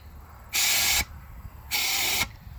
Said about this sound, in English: let's see when we spray the canned air